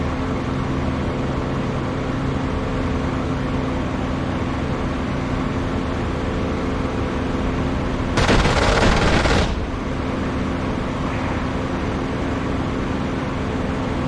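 Spitfire strafing in a flight sim game, a single loud rattling burst of machine-gun fire lasting about a second over a constant heavy engine drone.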